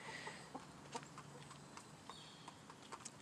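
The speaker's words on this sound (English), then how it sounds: "Look at you pretty chickens." Faint, scattered clucks from chickens, including leghorns, at an off-grid homestead over quiet background rustling and a few soft thuds, distant and low in level.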